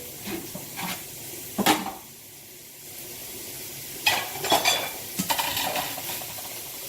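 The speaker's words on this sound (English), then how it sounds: "so we got our meat browning" Ground meat for chili browns in a pan over medium-high heat, heard as a low sizzle broken by intermittent spatula scrapes and clanks against the pan, close by and without talking.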